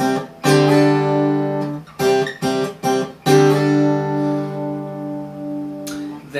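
Acoustic guitar playing the chords of a film theme, four strings picked in clear rhythmic strums with ringing sustain, close and alone.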